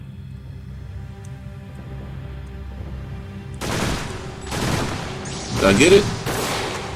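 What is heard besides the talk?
gunshots from a gun in a PlayStation demo video game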